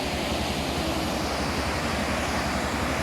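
Steady, dense roar of a waterfall near a footbridge, loud and continuous with no break, with no voices over it.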